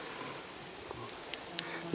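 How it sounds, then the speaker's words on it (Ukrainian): Honeybees working a flowering nectar plant give off a faint, steady buzz, with a few brief, slightly louder passes close by. "Де працює бджола зараз?"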